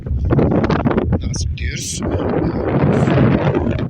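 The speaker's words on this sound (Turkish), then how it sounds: "Dehşet bir rüzgar var." Heavy wind buffeting a microphone on a beach in a constant low roar, with someone talking close over it.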